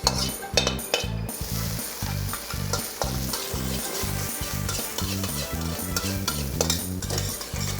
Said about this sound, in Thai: ผมจะใช้ไฟแรงๆครับ แล้วก็คั่วตะตอลงไปครับ